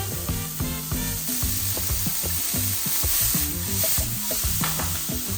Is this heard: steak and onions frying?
yes